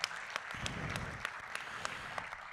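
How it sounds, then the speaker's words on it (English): An audience at the Georgia PGA annual meeting gives a round of applause: a steady wash of many hands clapping, heard from a distance and fairly soft. "Give him a round of applause."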